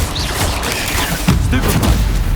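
Stupefy spells cast in Hogwarts Legacy combat give muffled magical bursts and thuds within a busy layer of game sound and music.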